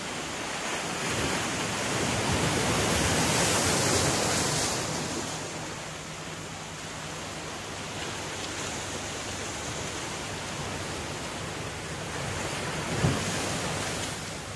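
Sea waves at the beach in Puerto Galera make a steady broad wash of surf, swelling and easing gently, mixed with wind rumble on the microphone and no voices.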